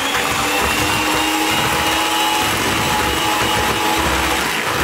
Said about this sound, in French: Et on continue de fouetter.